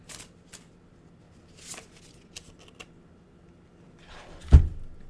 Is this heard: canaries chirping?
no